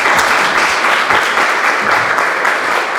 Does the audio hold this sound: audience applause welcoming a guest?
yes